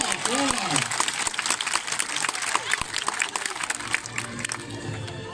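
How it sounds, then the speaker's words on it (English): Applause and cheering from a crowd at a sea lion show at Blackpool Zoo, steady clapping throughout, mixed with voices and an excited high-pitched cry near the start. "Give her a big round of applause."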